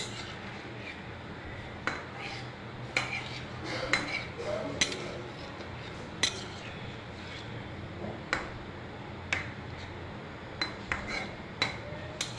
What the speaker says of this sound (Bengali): আলু আর ঝিঙ্গেগুলো দিয়ে দিয়েছি এবার একটু নেড়ে নিচ্ছি ঝোলটা দিয়ে দিয়েছে একটু নেড়ে দিচ্ছি